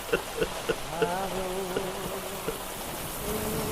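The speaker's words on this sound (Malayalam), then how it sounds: "ഈ ആർത്ത് പെയ്യുന്ന മഴയിൽ" Heavy pouring rain used as a sound effect during a tribal-themed stage play at a multicultural talent show, a dense steady hiss with sharp drips and tones layered over it.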